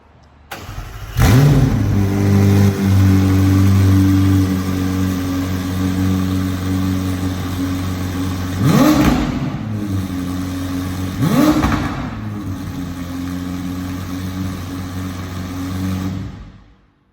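A McLaren Senna GTR's V8 starts with a loud bark and settles into a deep, steady idle, then gets two sharp throttle blips a few seconds apart, close and loud throughout, with no talking.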